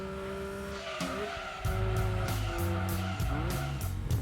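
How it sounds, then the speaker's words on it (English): A Nissan Skyline R33 GT-R in Gran Turismo 2 oversteers through a corner, its tires squealing in long, loud skids over a steady, droning engine note that rises as it powers out. "lots of oversteer on that corner right there"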